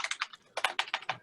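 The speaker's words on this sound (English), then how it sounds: "I can hear you typing, Lisa." Rapid typing on a computer keyboard, a quick run of close, crisp keystrokes in two bursts with a short pause between.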